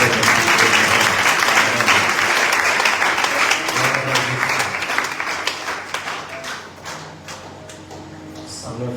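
A church congregation breaks into loud, sustained applause that fills the room, with voices mixed in underneath, then slowly thins and softens toward the end.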